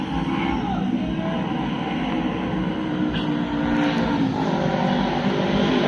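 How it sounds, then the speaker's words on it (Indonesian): Steady traffic of many motorbikes streaming past on a road at Situ Wanayasa near Purwakarta, a continuous loud engine drone and rumble with no gaps, close by throughout. "Banyak motor berlalu lalang."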